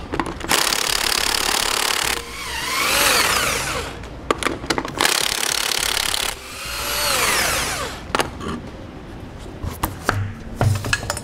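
Lug nuts coming off a trailer wheel on a Dexter axle with idler hubs, loud impact wrench or power tool bursts that rise and fall in pitch, two long spins followed by clattering metal knocks and handling noises.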